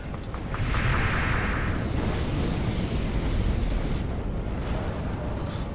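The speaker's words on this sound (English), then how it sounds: "So there's an exchange of fire between ships there." Space battle in the game Sins of a Solar Empire: Rebellion, with spaceships trading fire as a dense wash of rumbling explosions and bursts, fairly loud and continuous, with no talking over it.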